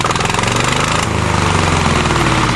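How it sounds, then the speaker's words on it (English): A pull-started diesel engine that powers a welder runs loud and close on a farm, with a steady, rough, pulsing rumble and a slight change in tone about a second in. "Fire that diesel up, Rick."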